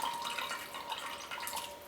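Lemon juice drips and trickles as a lemon is squeezed and the excess is poured off a dish during chicken marinade prep; soft, close liquid patter in a steady stream, no talk.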